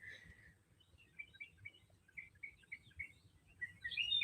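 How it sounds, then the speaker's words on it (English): Small birds chirp and twitter in quick, bright bursts, fairly close, over a quiet low rumble, growing louder toward the end. "Yeah, the birds are happy."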